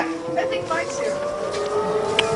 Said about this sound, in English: the sirens are going off here